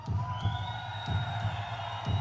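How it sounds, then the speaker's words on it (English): Heartbeat sound within a music track: soft, steady low thumps repeat about once a second beneath sustained droning synth tones, with no talking. "Heartbeat."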